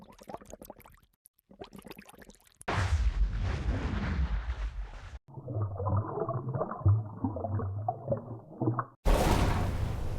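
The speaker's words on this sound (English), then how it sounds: "All sorts of little underwater booms, waves, some types of ambiances" Deep muffled rumbles and murky watery movement, like booms heard underwater, run for a few seconds after brief talk, then a burst of hissing noise follows; underwater sound effects.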